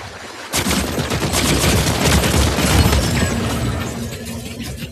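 Rapid weapon fire from the video game Fortnite bursts in loud and dense after a brief silence, a continuous crackling volley that runs for several seconds before easing slightly.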